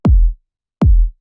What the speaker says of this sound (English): So I have two kick samples here.